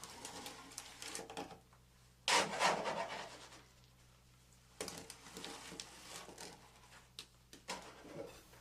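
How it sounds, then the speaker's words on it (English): Concrete scooped into a slump test cone for the second layer, the scoop scraping and pouring around the cone's perimeter in a few gritty, rasping bursts separated by quieter pauses, close and moderately loud. "fill the second third of the cone by volume, moving the scoop around the perimeter."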